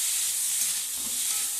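Raw vegetables sautéing in a pan, a steady, close, bright sizzle that hisses evenly throughout with no talking.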